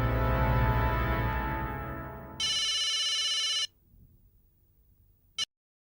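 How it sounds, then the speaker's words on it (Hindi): An electronic phone ringtone trills in a steady burst for about a second, then stops, after fading music and before a brief click. "बबीता जी को फोन करता हूँ।"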